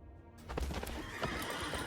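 Horse neigh sound effect in the Magic: The Gathering card game Outlaws of Thunder Junction, a loud whinny bursting in and trailing off alongside clip-clop hooves, with no talk over it.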